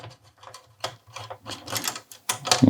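A screwdriver clicks and ratchets in short irregular bursts while the two heatsink clamp screws come out of a PlayStation 4 Slim. The sound is close and small, with a faint low hum in the background and no talk.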